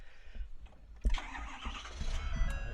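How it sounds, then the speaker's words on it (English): A pickup truck engine fitted with a touch-screen display, cranking over and catching, then settling into a low idle that rises slightly, heard fairly close with no talk. "I'm going to have to start this truck up"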